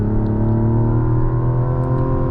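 A 340-horsepower inline-six in a 2024 Mazda CX-90 SUV drones steadily from inside the cabin, its pitch edging slightly upward as the vehicle pulls ahead.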